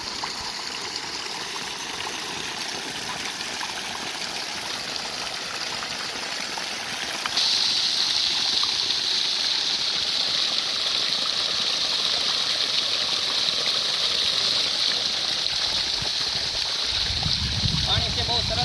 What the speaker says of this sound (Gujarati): મોટર બોરમાં ઉતારી દીધી છે અને પાણીનો જો ભખડિયો આવ્યો છે